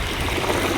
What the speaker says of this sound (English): we'll go ahead and fill this hole in with some water.